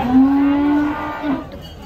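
A cow moos once up close, a loud sustained low bellow lasting about a second, followed by a softer trailing note and quiet background.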